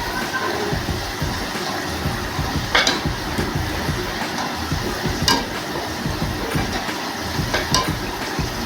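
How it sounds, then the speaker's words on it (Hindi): Shredded potato lachha being mixed by hand with salt, chilli, pepper and flour, producing a close, continuous moist rustling and squelching with a few sharper clicks scattered throughout. "और इन सब चीज़ों को अच्छे से मिक्स कर लेंगे।"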